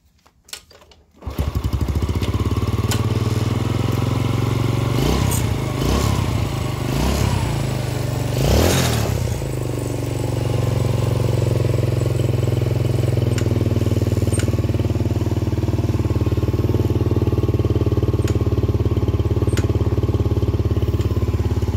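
A Yamaha Jupiter Z motorcycle engine idles steadily and loudly throughout, refusing to switch off due to an electrical fault, with a few brief revs or clatters early on, and no voices.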